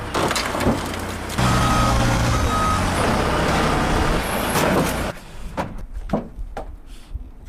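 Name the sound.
forklift reversing and lifting a car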